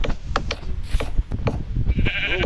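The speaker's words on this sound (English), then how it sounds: "Let's find some more sheep and lower them down to their new house" Sheep bleat in the Minecraft video game, several short, close calls spread across a couple of seconds, mixed with light clicking and mechanical game sounds.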